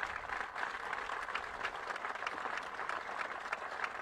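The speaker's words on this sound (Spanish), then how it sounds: "un aplauso." An audience at a tribute event for the rescue of the 33 San José miners gives a round of applause, a fairly faint but continuous patter of many hands clapping.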